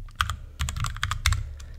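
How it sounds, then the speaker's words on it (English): Computer keyboard typing while coding a Python Discord bot, close and clear: quick irregular clusters of key clicks with brief pauses, heard alone with no talk. "I'm typing so slow because I have my microphone in front of me"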